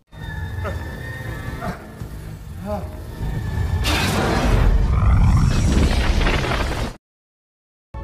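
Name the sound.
explosion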